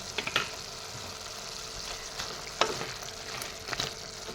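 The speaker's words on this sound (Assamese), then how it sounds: "এইখিনিও এফালৰ পৰা লৰাই যাম আদা নহৰুখিনি।" Chicken stirred with ginger-garlic paste in a pan, giving a steady soft sizzle broken by a few sharp spoon scrapes and knocks, close and moderately quiet, with no talking.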